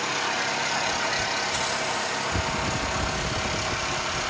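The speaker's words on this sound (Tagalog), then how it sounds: "Upon starting the compressor" An air compressor for filling firefighting breathing apparatus cylinders runs with a steady, loud mechanical drone, deepening into a heavier low rumble partway through as it comes up to load, with no talking.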